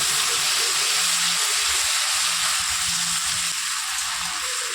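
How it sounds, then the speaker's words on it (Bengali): Ginger paste sizzles and fries in a pan for a vegetarian curry, a steady loud hiss of hot oil throughout, with faint clinks and a low hum underneath. "আদা বাটাটা দিয়ে দিলাম একটু ভালোভাবে ভেজে নেবো তারপর কিন্তু টমেটো বাটাটা দিয়ে দিচ্ছি"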